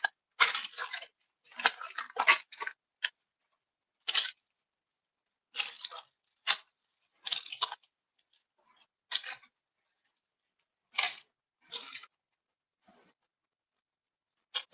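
Tissue paper handled at a craft table gives short, dry crinkles and rustles in scattered bursts with quiet gaps, close and soft, with no talk over it.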